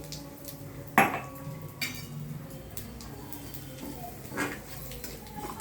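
Carom seeds (ajwain) are roasted in a pan on the stove, with a sharp clank of utensil against metal near the start, then light stirring scrapes and faint sizzling.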